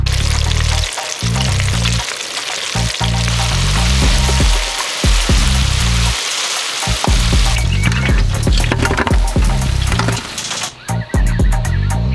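Catfish (flathead) nuggets deep-frying in a Fry Daddy electric fryer give a loud, steady bubbling hiss that runs throughout, with intermittent sharper crackles and a brief disturbance near the end.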